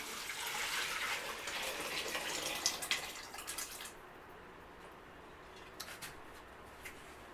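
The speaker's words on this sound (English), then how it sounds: "And I'm gonna pour my broth in there." Chicken broth pours steadily into a pot, a continuous splashing rush that runs for about four seconds, then falls to quieter trickles and a few drips.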